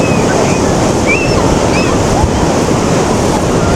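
Waves roll onto a windy beach where the sea is rougher than usual, making a loud, constant roar of surf as gusts buffet the microphone throughout.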